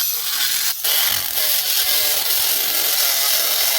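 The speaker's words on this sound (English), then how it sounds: "I'm actually having to grind mine down so it don't bump the rudder base." A rotary grinder steadily grinding down a metal set screw on an RC drag boat rudder part, a loud, close, continuous high-pitched whine with one brief dip early on.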